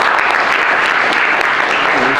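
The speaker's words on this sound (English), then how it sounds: "Let's give her an applause." A crowd at a Chicago community event applauds the 5th Ward alderwoman, producing a loud, dense, continuous wash of clapping close by, with a little voice mixed in.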